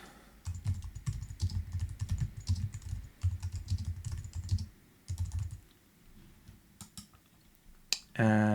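Someone types a comment on a computer keyboard at a steady, quick pace, a close run of soft key clicks and taps that pauses briefly before a final burst of keystrokes.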